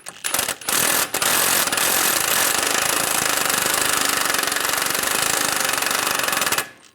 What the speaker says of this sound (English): Snug down the axle nut.